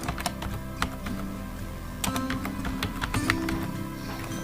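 Someone types a password on a computer keyboard: a quick, uneven run of crisp key taps, some louder than others, close and fairly clear with no talk.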